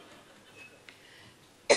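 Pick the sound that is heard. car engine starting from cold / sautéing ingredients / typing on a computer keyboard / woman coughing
woman coughing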